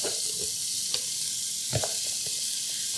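Finely chopped onion sizzles in butter with a little olive oil on a stove, a steady soft hiss with a few faint stirring knocks and no talking.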